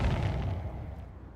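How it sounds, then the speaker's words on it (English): Fireworks in Dead by Daylight let off a single loud, booming burst that rumbles and fades over about a second, with no voices over it. "Can't you shut up your fireworks?"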